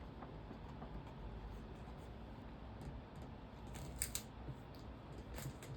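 Scissors snipping a hang tag off a Cookie Monster gift basket item, with a few quiet, close cuts over a low background hiss.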